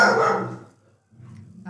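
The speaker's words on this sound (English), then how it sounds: "I apologize for my dogs." Dogs bark close by, one loud bark followed by quieter rough barking and growling at the end.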